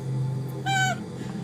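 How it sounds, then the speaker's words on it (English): A single cat meows once, a clear rising-falling meow lasting about a third of a second against a low steady hum, fairly close and alone without talk. "Meow meow."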